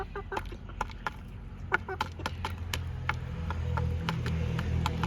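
Short clucks from a yellow white-tailed Thai rooster repeat irregularly over low background noise, with a few sharp clicks and some faint distant voices.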